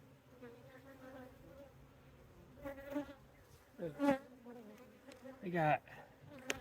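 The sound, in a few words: honey bees buzzing during hive inspection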